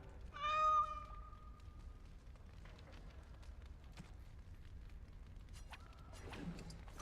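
A cat character in the video game Dragon Age: Awakening gives a single clear meow near the start, followed by quieter game ambience and faint rustling.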